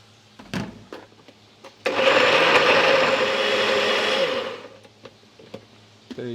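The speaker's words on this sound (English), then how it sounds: "So now it's going to put it into the blender." A kitchen blender whirs loudly for about two and a half seconds, blending curry ingredients for chicken karahi with a drizzle of water, then cuts off, leaving quiet kitchen clatter before and after.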